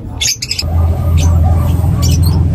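A pet pigeon kept in a cage at home gives a few sharp squawks and chirps close by, over a low steady hum.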